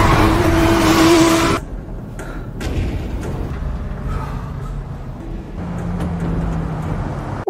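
A motorcycle passes a car at night with a loud, close roar that cuts off sharply, followed by a lower rumbling engine and scattered thuds.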